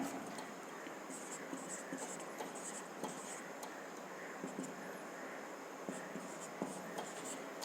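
Chalk or marker tapping and scratching on a board during a trigonometry lesson, a faint, irregular series of short strokes over a steady room hiss, without speech.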